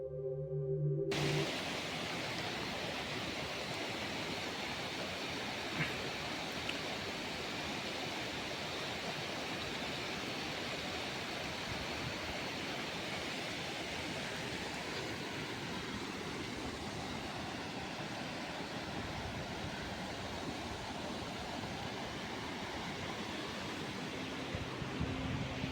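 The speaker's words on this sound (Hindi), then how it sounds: "ये वो झरना जो बड़ी मुश्किल से क्रॉस करना पड़ता है, क्योंकि परे पत्थर के ऊपर पानी आ रहा है इस तरीके से" A mountain waterfall pours over rocks on the Shrikhand Mahadev trek, a steady, dense roar that fills the whole stretch without a break; no one speaks.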